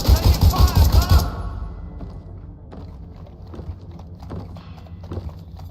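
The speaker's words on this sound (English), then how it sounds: "Taking fire, Connor!" Watch Dogs Legion gameplay opens with a loud, rapid burst of gunfire that cuts off after about a second, followed by quieter scattered shots and thuds.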